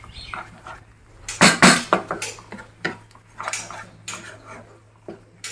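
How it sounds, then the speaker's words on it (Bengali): A spoon stirs mango paneer in a pan, sauce just added, giving close, sharp metallic scrapes and clinks in an irregular rhythm, loud and alone. "নাড়তে থাকতে হবে।"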